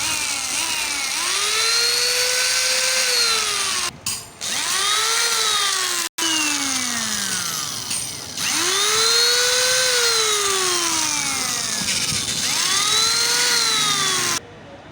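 A power drill fitted with a 70 bit bores a hole, its motor whine sweeping up and down in long repeated runs with a few brief stops, loud and close with no talking.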